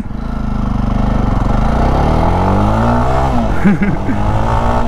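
A loud 2023 Jawa 42 Bobber motorcycle engine climbing steadily in pitch as it accelerates from first gear, with a brief shift near the end before it pulls on again, heard up close.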